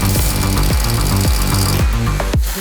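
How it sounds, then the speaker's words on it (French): A new Bosch Expert-range rotary hammer drill being tested, loud and close, with a fast steady hammering pulse over a dense roaring motor, running continuously before a brief dip near the end. "C'est notre nouveau perforateur de la gamme Expert en SS+."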